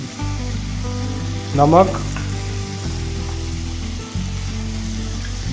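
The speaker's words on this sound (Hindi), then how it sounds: "हरे मटर को थोड़ा देर भून लेते हैं हम" Green peas roast in a pan for a Punjabi samosa filling, giving a loud, continuous sizzle throughout, with a brief voice speaking once in the middle.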